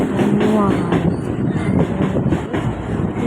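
A Chengalpattu train starting to pull away from a platform, a steady rumble of wheels and carriages with faint rhythmic clatter, heard up close and continuous, with indistinct voices in the background.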